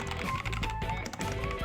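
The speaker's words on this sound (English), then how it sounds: "The mechanical keyboard provides a subtle feedback to it when typing, and the sound is so satisfying to hear and use." Typing on a LOFREE 1% transparent mechanical keyboard, a quick, busy run of close clicking keystrokes over a low background hum.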